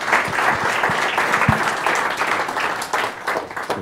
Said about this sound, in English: ladies and gentlemen, round of applause for James Majors